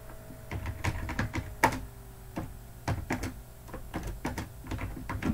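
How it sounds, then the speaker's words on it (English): A command being typed on a computer keyboard into the command prompt: irregular bursts of close, crisp key clicks and clacks, some louder strokes standing out, with no talking. "Now in here, you just type in that command that I sent you."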